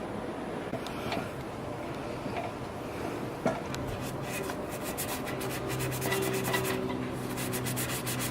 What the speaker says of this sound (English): I'm just sanding off the surface rust so that the clutch will fit on nicely.